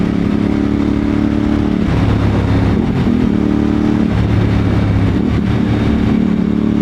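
A Moto Morini X-CAPE 1200 motorcycle engine rumbles and revs steadily at close range, its low exhaust note rising and falling in a few surges and popping, without any talking.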